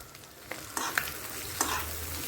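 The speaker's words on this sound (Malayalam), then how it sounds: "നന്നായിട്ട് ഇളക്കി കൊടുത്തിട്ട് നമുക്ക് ഒന്നും കൂടെ മൂടി വെക്കാം." Fish roe frying in a pan while being stirred, with a low constant sizzle and a few sharp scraping clacks of a spoon, close and alone with no talk.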